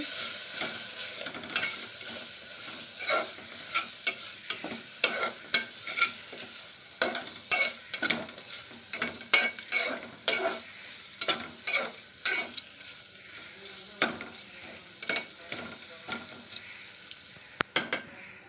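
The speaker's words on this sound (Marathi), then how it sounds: "हा काश्मीरी रेड चिली पावडर जिरा पावडर आणि हळद हे परतून घ्यायचे" Ground Kashmiri red chili powder, cumin powder and turmeric sauté in a pan for veg pulao: a soft low sizzle beneath frequent sharp spatula scrapes and clinks against the pan, close and uneven in rhythm, with no talk.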